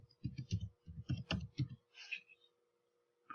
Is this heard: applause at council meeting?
no